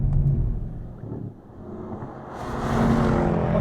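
A Mercedes-Benz C63 AMG Coupe engine rumbles low as the car slides its rear on track, fading briefly and then swelling louder with a rising roar and tire hiss toward the end.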